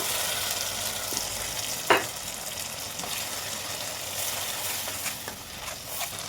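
Ginger-garlic paste and tomato masala fry in a pan for a vanjaram fish curry, giving a steady close sizzle with one sharp spatula scrape near the middle and a few lighter clicks, with no talking.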